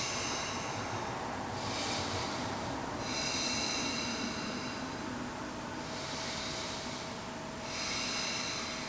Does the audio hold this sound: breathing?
yes